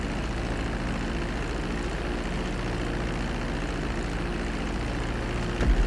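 A fixed-wing airplane in a flight-training game approaches a runway and lands, its engine droning steadily and loudly throughout, with a short thump near the end.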